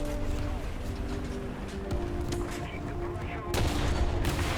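Tank cannon fire in a WW2 tank video game, several sharp booming shots over a steady engine rumble, the last ones louder and close.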